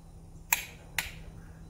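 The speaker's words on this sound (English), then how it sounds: "now we're going to finalize 49 pounds with this half inch" A half-inch torque wrench gives two sharp, close clicks about half a second apart while tightening the head bolts to 49 pounds on a 2005 Honda Civic B-series engine, over a faint steady background hum.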